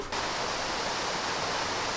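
A waterfall at Zhangjiajie, China, gives a steady, broad rushing roar that starts abruptly and holds evenly throughout, moderately loud and without talk.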